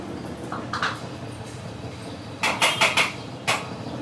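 White sesame seeds roasting in a pan with a little oil, a spatula clinking and scraping against the metal in a few quick, close strikes over a low background hiss.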